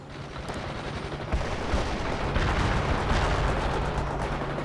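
Battle sounds from the video game World in Conflict fill the scene. Dense, continuous gunfire and artillery blasts pile into a rumbling, crackling wall of noise that grows a little heavier partway through.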